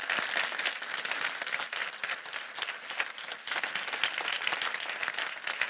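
Sustained applause from the audience at the closing session of an audit forum, steady dense clapping that fills the whole stretch at an even level with no talk over it.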